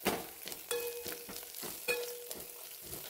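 Spices with turmeric temper in hot oil in a pan over low heat, giving a soft, faint sizzle with a few light stirring taps and scrapes.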